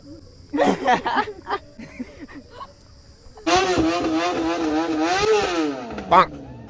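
An old 1950-model vehicle's engine revs loudly, climbing and falling in pitch for a few seconds at an SDM Engineering College Dharwad event, with people talking and laughing nearby beforehand.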